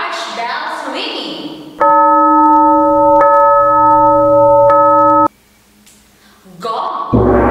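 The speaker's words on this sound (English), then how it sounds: "large bells ringing," Large bells ring out in a sustained, bright tone for about three and a half seconds, with voices talking just before and after.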